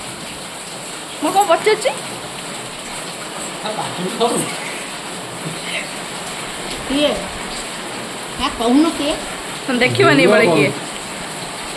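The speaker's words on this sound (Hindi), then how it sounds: "बो वर्षा होजी वर्षा होजी" Steady rain pours down as a continuous broadband hiss, with several voices talking over it in short bursts throughout.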